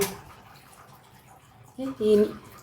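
Tap water runs in a home during a holiday gathering, a faint steady hiss in the background until the tap is shut, after which people speak.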